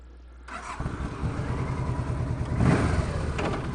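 A Yamaha Royal Star Venture trike on stock pipes starts up and idles nearby, its engine catching after a moment and settling into a steady rumble with a brief rise in revs.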